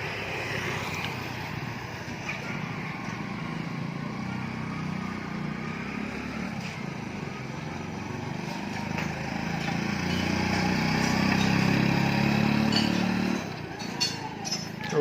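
Motorcycle pulling a vegetable-selling bike trailer, bound for Indore, Madhya Pradesh, runs at speed in a test drive, a steady engine drone with rising rumble midway, under faint background sounds.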